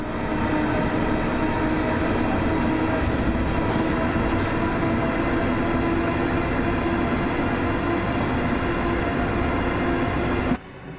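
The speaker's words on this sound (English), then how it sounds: "Accelerating pretty well. Sounds like a train." Train on the Glasgow–Dunblane line in a rail simulator game pulling away under power, a steady loud rumble with a sustained motor whine held throughout, cutting off abruptly near the end.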